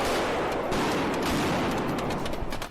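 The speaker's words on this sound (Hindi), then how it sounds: "उन्होंने भी पुलिस वालों पर पटाखे छोड़ने शुरू कर दिए।" Firecrackers hurled at police during a street protest, a rapid crackling volley of sharp pops heard from a distance, moderately faint and continuous over a dense crowd-like din.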